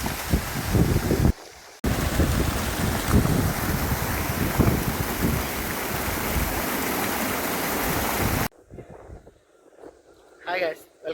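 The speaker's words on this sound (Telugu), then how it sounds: "ఇదండి వాటర్ డ్యాన్స్." A water dance fountain show in Mysore gives off a loud, steady rush of spraying and falling water, cut by a brief gap, then drops to quieter splashing with voices nearby.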